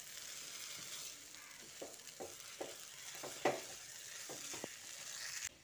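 Semolina for sujir halwa is stirred in ghee in a pan over a low flame: a quiet, continuous sizzle broken by a series of distinct spoon scrapes and knocks, close and without speech.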